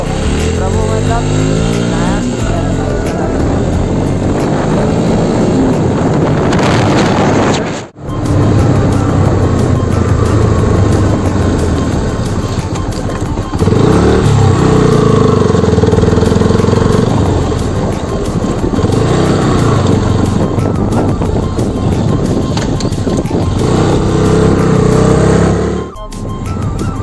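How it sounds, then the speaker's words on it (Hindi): A Bajaj Pulsar NS 125 motorcycle rides along a forest road, its engine a steady drone with rising and falling revs and wind rush, while riders talk over it throughout. "तो अभी मैं बैठ रहा हूँ बाइक पे और हम जा रहे हैं"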